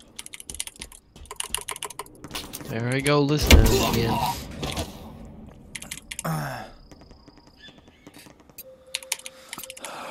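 Computer keyboard typing while playing Halo Infinite on PC: quick clusters of clicks at the start and near the end, with talking voices and game sounds in between.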